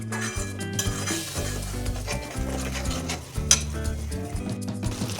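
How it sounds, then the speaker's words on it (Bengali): Masala paste with cashews stir-fried in oil over low heat, with a soft steady sizzle and spoon scraping against the pan under faint background music. "এবার মশলাটা আরও অল্প আঁচে আঁচে ভালোভাবে কষাবো।"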